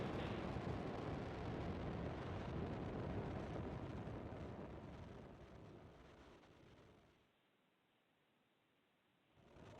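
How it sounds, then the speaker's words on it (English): A SpaceX Falcon 9 lifts off from Slick 4E at Vandenberg Space Force Base, California, as a broad, steady roar rumbling for about seven seconds before dropping away to near silence, then swelling slightly again at the end. "Falcon 9 has successfully lifted off from Slick 4E at Vandenberg Space Force Base in California"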